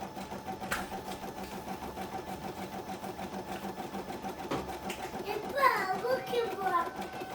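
Children's voices carry faintly in the background over the steady whir of an embroidery machine, growing livelier with a higher-pitched call near the end.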